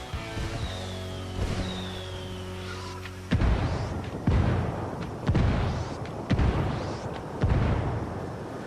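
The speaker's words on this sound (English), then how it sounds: "Call the rebels for some indirect fire." Rebel mortar strikes pound the ground in the video game Ghost Recon Wildlands. Heavy booming explosions roll in one after another, each with a rumbling tail, and follow a short stretch of tonal whistling.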